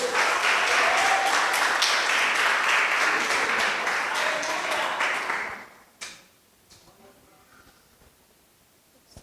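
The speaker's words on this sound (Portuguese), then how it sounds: "Aplauda ao Senhor nessa noite" A church congregation at an evening service applauds, dense clapping filling the room for several seconds before fading out, followed by quiet room sound with a few stray claps and soft voices.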